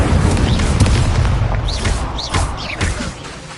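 An Incendio fire spell cast in Hogwarts Legacy, heard as loud booming bursts and thuds layered over dense, continuous combat noise, with several whooshing swells rising and falling.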